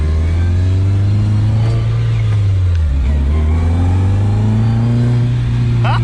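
A Toyota Corolla TE72 fitted with a 3SGE engine drones loudly from inside the cabin on a drive, its pitch sagging and rising again as it shifts and accelerates, with steady road rumble throughout.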